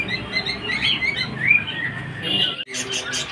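Finches chirp and twitter busily in a continuous bright chatter, close by, with a brief pause before the tweeting resumes.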